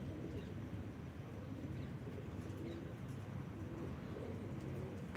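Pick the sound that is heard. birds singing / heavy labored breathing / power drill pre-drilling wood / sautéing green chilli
birds singing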